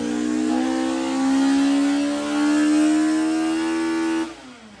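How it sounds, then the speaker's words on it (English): A Toyota MR2 with a freshly swapped 2ZZ-GE engine runs for the first time, its loud, steady mid-pitched drone rising and falling slightly before cutting off abruptly near the end. "today you see here my MR2 with a brand new 2ZZ in it, and we're going to be starting the engine for the first time today."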